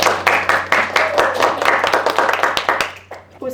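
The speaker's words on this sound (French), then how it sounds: "vous pouvez vous applaudir." A hall full of schoolchildren claps for themselves, brisk and fairly close, with a clatter of individual hand claps that thins out and stops near the end.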